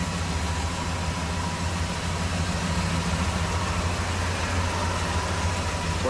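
A 1979 Ford F250 Custom 4x4 with a 351 V8 idles smoothly, a steady low even rumble, close and constant with no revving.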